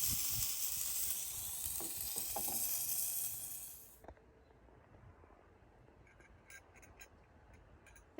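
Food frying in a pan at a campsite in Alaska, a loud steady sizzle that fades out after about four seconds, leaving faint ticking and light clicks.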